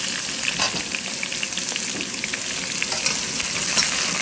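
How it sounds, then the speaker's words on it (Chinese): Pork skin and small unpeeled potatoes stir-frying in a wok give a steady, close, loud sizzle and crackle of hot oil throughout, with no talking. "一直炒一直炒，炒的有点抽巴了，然后再放料。"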